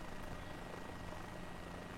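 Steady, droning helicopter rotor and engine noise from a video game, heard close and continuous with no talking over it.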